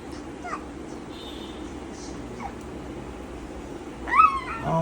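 A cat meows once near the end, fairly close, after several quiet seconds of room noise with faint faraway sounds; a voice imitating the meow is not evident.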